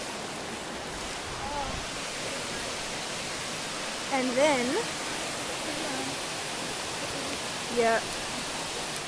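Erskine Falls waterfall sending a broad, steady roar of rushing water from close by, with someone speaking briefly over it.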